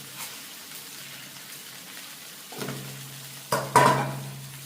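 Tomatoes and fenugreek added to a hot pan and fried, a low sizzle that jumps into louder bursts of hissing and spattering as the ingredients hit the oil, with stirring scrapes.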